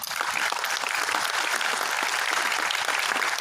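An official audience in Oran applauds the Wali at an industry and pharmaceutical ministry event, a dense, sustained wash of many hands clapping at even volume throughout, with no talk over it.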